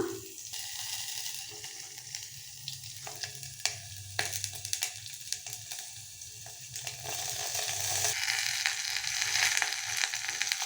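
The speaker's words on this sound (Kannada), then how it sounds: "ಚೆನ್ನಾಗಿ ಫ್ರೈ ಮಾಡ್ಕೊಬೇಕು ಸ್ವಲ್ಪ ಮೆಣಸಿನ್ಕಾಯಿ ಬಾಡಿಸ್ಕೊಂಡಾದ್ಮೇಲೆ ಇವಾಗ ಬಸಳೆ ಸೊಪ್ಪು ಹಾಕೊಳ್ಳೋಣ" Green chillies and basale (Malabar spinach) greens fry steadily in a hot pan, a continuous close sizzle with stirring scrapes, growing louder and denser toward the end.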